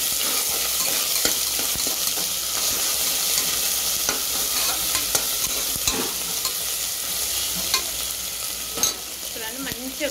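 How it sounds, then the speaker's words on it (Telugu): Ginger garlic paste sizzles and fries in hot oil for a tempering, a steady crackling hiss with occasional stirring scrapes and light utensil clicks, close and continuous throughout. "దగ్గర పడ్డది తాలింపు కొంచెం అల్లమెల్లగడ్డ వేసుకుంటున్నా"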